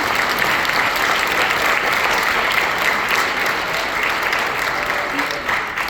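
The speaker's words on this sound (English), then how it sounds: "Give yourselves a round of applause." Parents and families applauding at a Wilkes County schools all-county honors band concert, a full, sustained wash of clapping from a large audience that stays loud and even for several seconds before easing slightly.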